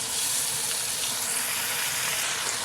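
Chopped tomatoes hitting hot oil with frying potato and aubergine for a home-style aloo baingan curry, giving a steady, close, loud sizzle with hissing spatter throughout and no talking.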